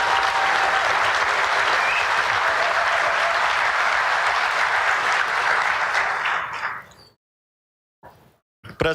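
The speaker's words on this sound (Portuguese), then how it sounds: "Uma salva de palmas à segurança pública brasileira." Audience applause honoring Brazilian public security professionals at a Brazilian official event, a loud, dense sustained ovation for about seven seconds that cuts off abruptly, followed by near silence and a couple of faint brief sounds.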